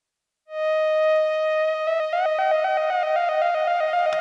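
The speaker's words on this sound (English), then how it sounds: "you've got that lovely, beautiful sounding Oberheim saw wave" A bright Oberheim-style synthesizer saw-wave pad, from the GForce OB-E, swells in and holds, then takes on a rapid fluttering modulation as it sustains, with no voices.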